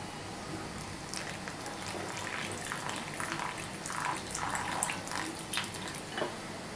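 Water poured into besan batter in a kitchen: a moderate splashing, trickling pour with bubbly gurgles that swells and fades over several seconds, close by and without talk.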